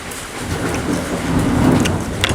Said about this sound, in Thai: มาพร้อมฟ้าพร้อมฝน